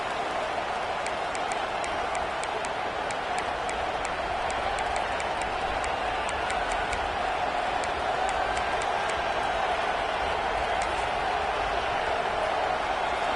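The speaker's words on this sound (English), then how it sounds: "This crowd ready to make its presence known." Dense, steady stadium crowd roar in the NCAA 26 college football video game, loud and unbroken throughout with faint sharp accents on top.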